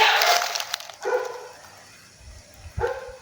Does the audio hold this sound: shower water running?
no